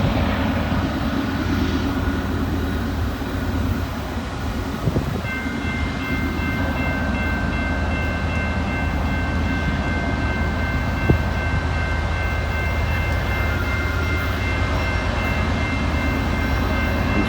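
A heavy, likely loaded grain freight train climbs a hill nearby with a deep, continuous engine drone and a faint high whine, labouring without letup.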